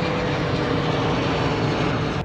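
A steady, loud roar of an airplane engine, broadband and unchanging throughout, heard up close with no talking.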